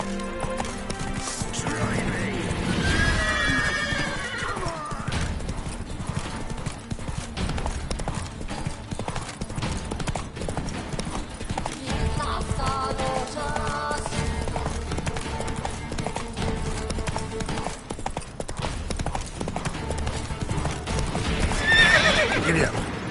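Hooves clip-clop at a gallop and a horse neighs in The Witcher 3 Wild Hunt, with game music and a voice speaking over the steady rhythmic hoofbeats.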